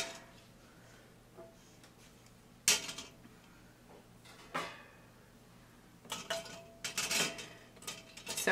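Glass canning jars knock and clink as they are set tightly into an ordinary cooking pot for water-bath canning jam, with sharp scattered clatters and a busier burst of clinks near the end, close and fairly loud.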